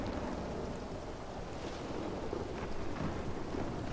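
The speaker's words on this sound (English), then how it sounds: "it's a really awful storm" A heavy thunderstorm with rain in RedM, a continuous broadband wash of rainfall with low rumbling, steady and fairly faint with no voices.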